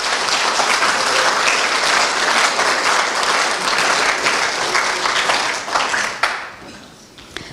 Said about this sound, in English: Would you give these guys a round of applause?